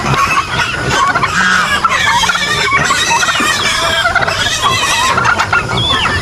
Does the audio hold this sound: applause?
no